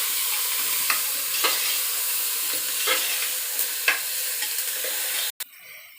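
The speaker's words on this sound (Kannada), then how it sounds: "ಸ್ವಲ್ಪ ಕಲ್ಕಿಸಿ, ಅದು ಕಲರ್ ಇದಾಗೋ ಮಟ್ಟಿಗೂ ಕಲ್ಕಿಸ್ಬೇಕು" Tomatoes and turmeric stirred and sizzling in a pan for pulao, a steady close fry with scattered spatula scrapes, cut off abruptly near the end.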